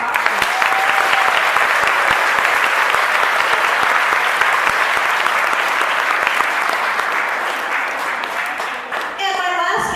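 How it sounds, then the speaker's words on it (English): A concert audience at a school band's final concert of 2019 applauds loudly and steadily for the full stretch, a dense wash of many hands that thins slightly near the end. "give them another round of applause"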